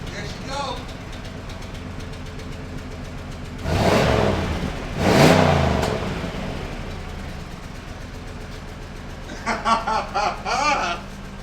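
A low-mileage 1996 Impala SS engine fires up and revs in two strong surges, then settles into a rough, choppy idle with a few sharp blips near the end.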